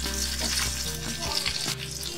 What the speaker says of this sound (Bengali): ফোড়নগুলোকে আমরা 30 সেকেন্ডের মতো ভেজে নেব।